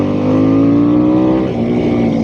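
Harley-Davidson Sportster S stock motorcycle accelerating hard, a loud, close engine roar holding a steady rising tone throughout, with no talking.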